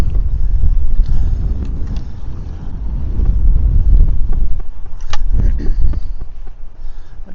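Steady wind buffets the microphone at a shoreline fishing spot, a loud low rumble of gusts throughout with a few brief clicks and knocks.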